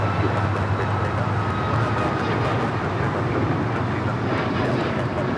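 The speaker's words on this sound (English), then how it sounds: "This is Southwest Airlines 1535 taking off to Houston Hobby on the MAX 8." A Southwest Airlines Boeing 737 MAX 8 taking off from runway 25 right at Los Angeles International Airport, heard as a steady, loud, broadband jet roar that holds throughout without any voices.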